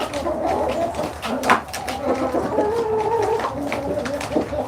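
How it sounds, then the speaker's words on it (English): Backyard chickens cluck and murmur in soft, overlapping calls close by, with a busy, continuous background of flock noise. "These chickens are fascinating."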